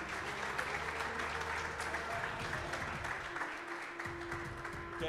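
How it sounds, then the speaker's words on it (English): Steady applause from a crowd at a rugby academy graduation ceremony fills the whole stretch, dense clapping at an even level without a break. "let's give those a round of applause, please"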